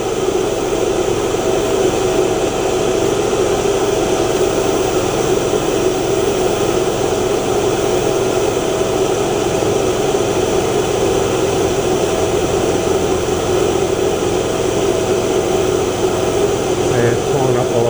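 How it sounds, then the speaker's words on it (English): An inverter generator drones steadily under load while charging a LiFePO4 battery, a constant engine hum with no throttle change, heard close with a voice speaking over it. "I can hear the generator working because I haven't given it any more throttle"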